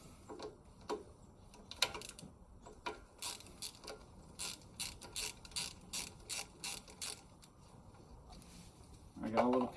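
A ratchet with a 7/16 socket works a nut loose on a lawnmower, giving a quiet run of quick clicking strokes in a steady rhythm, with some handling noise at the start and end.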